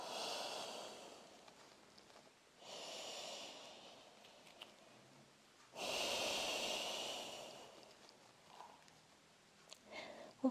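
Deep breathing in a standing yoga forward fold, heard as a few long, close, airy inhales and exhales separated by quiet pauses.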